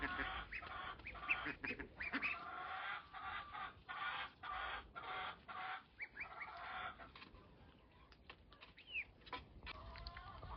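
Ducks on a hot farm, one panting in the heat, give scattered quacks and clucking calls amid other poultry noise, close and moderately loud, in irregular bursts with no speech.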